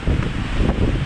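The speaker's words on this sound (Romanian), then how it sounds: "Bate vântul de rupe." Loud, strong wind roaring continuously at a panoramic mountain cabin on Ucigașul peak, Romania, with gusty rumbling buffeting throughout.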